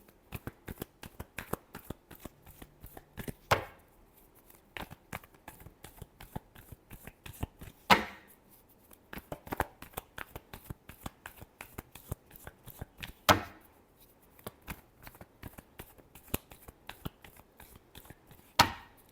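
Tarot cards being shuffled by hand in a steady run of soft, rapid riffles and flicks, with a few sharper snaps where the deck is squared, close and fairly quiet with no talking.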